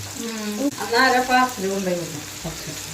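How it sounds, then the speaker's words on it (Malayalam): Tuna pieces sizzle in a pan for pickle, a steady frying hiss partly masked by someone speaking over it. "നമുക്കിത് വറുത്തെടുക്കാം"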